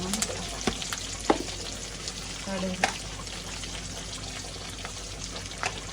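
Green chili, curry leaves and mustard seeds fry in hot oil for a Diwali feast, giving a steady close sizzle with occasional sharp pops and stirring clatters, while a voice talks intermittently over it.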